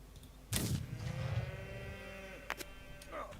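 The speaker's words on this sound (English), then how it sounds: "Pig." A pig in the survival video game Rising World gives a long, low, drawn-out groaning grunt that slides downward, moderately loud over quiet game ambience, with a few clicks afterward.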